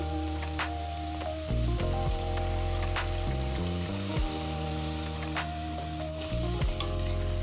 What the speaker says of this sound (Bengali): এবার জল দিয়ে দেবো অল্প পরিমাণে। তো জলটা আমি দিয়ে দিচ্ছি।